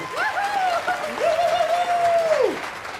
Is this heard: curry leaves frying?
no